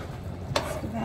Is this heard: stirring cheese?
yes